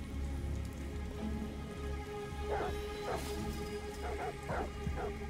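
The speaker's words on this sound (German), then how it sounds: "Verdammte Hunde. Warum bellen sie schon wieder?" Dogs bark in short bursts across the scene in the Detroit: Become Human video game, moderately loud over a steady rainy, humming background, with a voice speaking at times.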